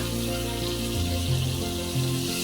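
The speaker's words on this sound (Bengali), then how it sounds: "আমরা এখানে মিডিয়াম পরিমাণ জল দেব" Water pours steadily into a pot of cooking curry, a continuous rushing splash over a faint sizzle, close and fairly loud with shifting tone.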